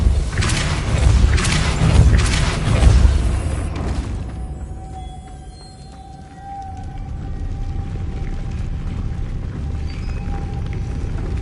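The Depulso spell is cast in the video game Hogwarts Legacy, a loud rumbling, booming blast that surges for a few seconds and then drops away, leaving a quieter, steady hum with a faint tone.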